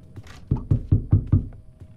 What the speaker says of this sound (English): Why do I hear knocking?